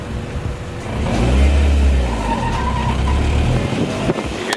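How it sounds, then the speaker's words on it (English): A car with a worn clutch rumbles at low revs under a thin, steady squeal, with the engine note swelling and holding for several seconds, close and fairly loud. "You hear that squealing noise?"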